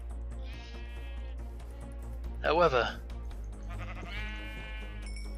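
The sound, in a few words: sheep bleating in Minecraft video game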